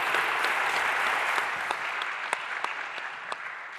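Attendees at a Sorbonne neuroeducation and creativity conference day applaud a speaker in a dense wash of clapping that thins out toward the end into scattered, separate claps.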